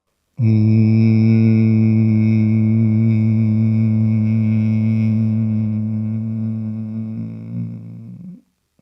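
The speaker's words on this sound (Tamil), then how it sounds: "ஹம்மிங் சவுண்டோட மூச்சை வெளியே விடணும்" One person hums loudly and evenly on a long out-breath as part of a calming breathing exercise. The tone lasts about eight seconds, wavers slightly near the end, and then stops abruptly.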